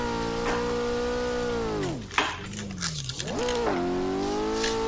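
A C5 Corvette Z06's V8 drones steadily from inside the cabin, dipping briefly during a gear change or clutch kick before pulling back up to a strong, even note.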